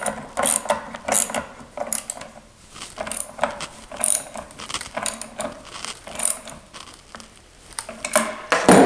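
A fastener on a newel post is tightened with repeated ratcheting clicks and metallic mechanism rattles in uneven bursts, close and moderately loud.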